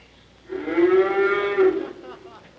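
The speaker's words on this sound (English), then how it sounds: "It sounded like a cow mooing in the south." A single cow lets out one sustained, clear moo lasting over a second, fairly close and alone with no talk over it.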